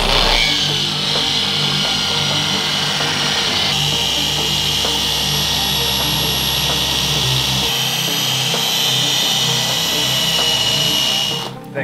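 A dual action polisher buffing black car paint on a Fox-body Mustang hums and whirs steadily at close range, its drone shifting pitch a few times as the speed changes, before cutting off at the end.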